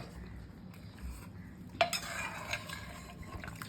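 Mutton curry being served onto plates at a Bengali home lunch, with a ladle scraping and clinking against a pot and dishes, a sharp metallic clink standing out, then steady scraping and tapping of utensils close by.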